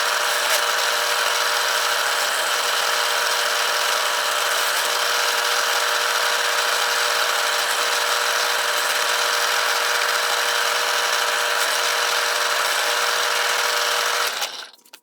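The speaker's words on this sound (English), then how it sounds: "Lots of holes to drill." Power drill boring holes in a control panel for a portable emergency power backup unit, a continuous high-pitched whine held steadily and close for the whole stretch before cutting off at the end.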